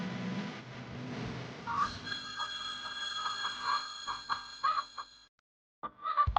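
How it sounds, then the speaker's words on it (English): Hens cluck in a farming video game, a quick run of short, bright clucks over faint ambience that stops abruptly near the end before a couple more clucks return. "I have strong, healthy hens that produce eggs daily."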